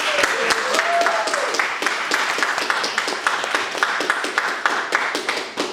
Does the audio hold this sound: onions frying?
no